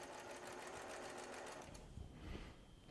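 A sewing machine stitches a log cabin quilt block, a quiet, fast-running mechanical whir that slows and shifts near the end, recorded faintly and close by.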